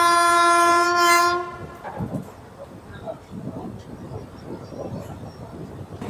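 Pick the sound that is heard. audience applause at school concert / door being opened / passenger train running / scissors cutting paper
passenger train running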